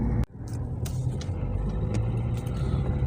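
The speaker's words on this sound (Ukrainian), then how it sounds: "Басак тягне плантер на візочку, все спокійно." A Basak 2110 tractor towing a Kuhn planter on a trailer gives a steady, loud low rumble from close by, with a sharp knock near the start and faint rattles over the engine drone.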